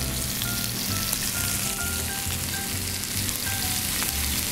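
Venison pieces searing in a hot pan with rosemary, a loud, steady crackling sizzle that fills the whole stretch without pause, close up and with no one talking.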